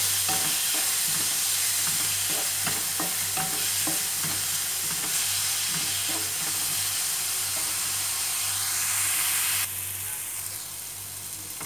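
Dried kachki fish with turmeric fries in a pan with a constant loud sizzle, punctuated by frequent stirring clicks and scrapes, then the sound softens slightly near the end. No one speaks.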